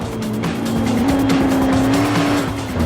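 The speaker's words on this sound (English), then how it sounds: "Check out this Mantide as it flies around the track" Tires squeal steadily on a Mantide race car in Forza Motorsport 4, a loud sustained screech over the engine's constant drone as the car is pushed hard around a track, with no voices.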